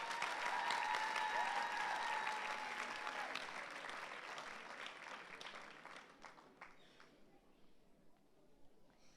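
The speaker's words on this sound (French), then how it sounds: "S'il vous plaît, acclamons pour le Seigneur." Church congregation applauding at a New Year's Eve service, a dense sustained round of clapping that starts loud and gradually thins and fades over several seconds.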